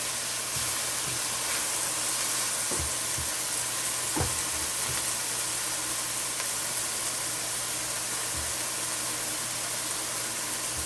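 Onions, garlic and ginger sauté steadily in a pot, a dense continuous sizzle with occasional faint clicks and stirring knocks, no voices.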